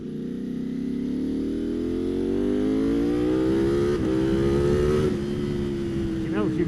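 Ducati Panigale V4 SP2 with Desmo V4 engine revving on a race track, a loud, continuous rising engine note climbing in pitch over several seconds, heard close with wind and roar throughout.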